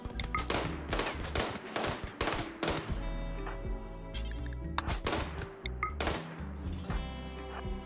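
Hunters firing guns in RimWorld, a string of sharp shots in quick bursts over steady game music, loud and close, with pauses between volleys.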